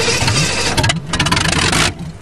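An old Cheviac car engine in a video game cranking and catching, with loud rough churning and rhythmic starter pulses that settle into a running idle before cutting off.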